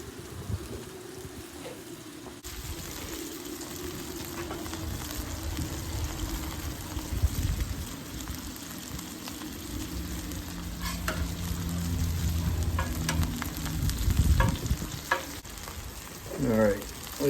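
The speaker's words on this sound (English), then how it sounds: "Stay back out of the grease spatter." BBQ bacon cheddar burgers fry in grease with a continuous close sizzle and crackling spatter, broken by a few sharper pops and scraping sounds toward the end.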